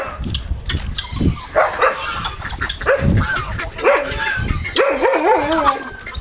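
A German Shepherd dog barks repeatedly and loudly at close range on a farm with geese and turkeys, its barks coming in quick bursts mixed with warbling animal calls.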